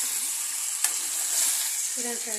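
Tamarind fish curry with small fish is stirred in a pan, soft scraping and a gentle sizzle under a brief clink, with faint talk near the end.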